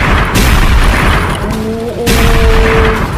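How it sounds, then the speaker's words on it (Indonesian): Cars exploding in the video game Sakura School Simulator during an earthquake disaster scene, loud booming blasts at the start and again near the two-second mark with a brief ringing tone between, close and heavy, with no talk. "Mobilnya meledak-ledak teman-teman."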